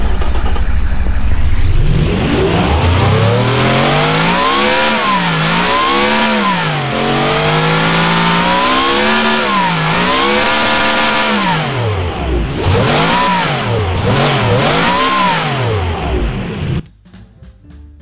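A loud SUV engine in a video game revs repeatedly, its pitch swooping up and down in quick waves before cutting off abruptly near the end.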